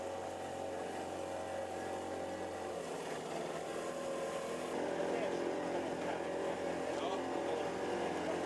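A Nile cruise boat's engine clatters and drones continuously at close range, with a loud, even mechanical rumble that grows slightly rougher in the second half.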